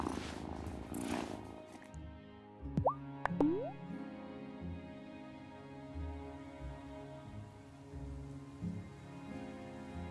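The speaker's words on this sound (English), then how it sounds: "Listen to that purr." Cat purring in the Wylde Flowers video game, a low steady rumble running for several seconds alongside soft background music, with a brief springy plop near the start.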